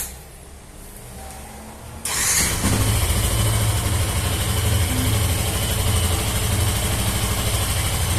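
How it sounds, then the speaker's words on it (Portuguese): A new Yamaha FZ15 motorcycle with an odd engine noise after 500 km starts abruptly after two seconds of quiet, then settles into a loud, steady close-up idle with a rough, rattly mechanical edge. "agora ela está fazendo um barulho muito estranho no motor"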